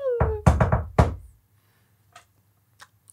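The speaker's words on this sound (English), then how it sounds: "is that a knock I hear at the door?" Several sharp knocks on a door in a quick cluster, then one more knock after a short pause, fairly close and loud, followed by a few faint distant taps in an otherwise quiet room.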